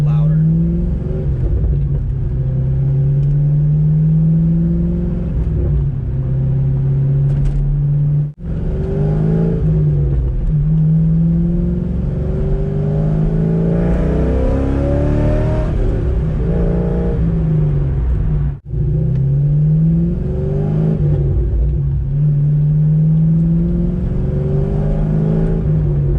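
A C5 Corvette with new headers and an uncatted X-pipe rumbles loudly and steadily while cruising, with its exhaust swelling through repeated revs and two brief drops in level, and a voice talks over it.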